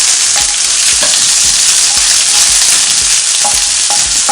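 Onions frying in oil for a chicken curry with spinach, a loud, close, continuous sizzle with periodic scraping clinks of a utensil stirring the pan, no voices.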